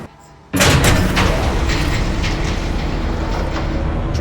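A train in the Telltale Batman video game starts up with a sudden loud burst, then rumbles and clatters steadily with repeated metallic clanks.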